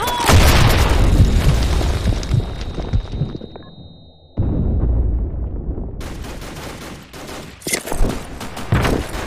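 In a shooter video game, a grenade explosion booms loudly up close within heavy gunfire, then after a brief near-silence, more bursts of shots and blasts follow.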